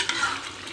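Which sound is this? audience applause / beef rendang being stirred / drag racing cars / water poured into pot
beef rendang being stirred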